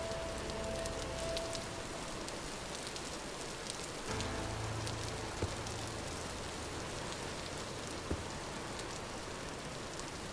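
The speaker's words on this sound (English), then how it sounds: "That's why the rain sounds so loud even though I'm inside." Steady rain in the video game Vintage Story, heard from inside a shelter, falls as a dense, loud, constant patter on the roof and surfaces, with a few faint clicks and knocks in the game and no talking.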